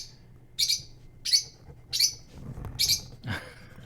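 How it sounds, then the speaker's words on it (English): Birds chirp in a room, five bright, evenly spaced tweets, close and clear, followed by a lower squawk-like call at the end. "The birds say yes."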